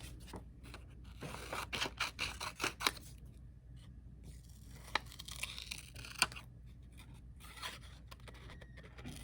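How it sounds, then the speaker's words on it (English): Scissors snip through a paper luggage tag in a craft project, a run of crisp cutting clicks and paper rustles at close range, with brief pauses between bursts and no talking. "I'm going to just cut out Mrs. Burroughs here"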